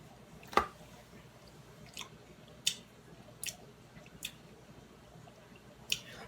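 Close, quiet chewing of a mouthful of tuna fish salad, soft wet crunches and smacks landing in a slow, irregular rhythm with pauses between bites, no talk.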